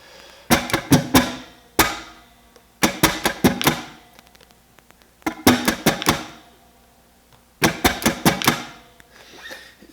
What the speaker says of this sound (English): if I just could do this, rather than play the notes, just strum it out to see what it feels like